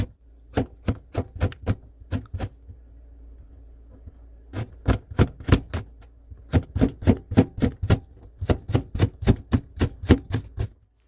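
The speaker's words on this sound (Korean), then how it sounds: "당근 40g은 최대한 가늘게 채 썰어줍니다." A knife julienning carrot on a cutting board makes rapid, evenly spaced sharp chopping knocks in several bursts, loud and close, with brief pauses between runs and no voices.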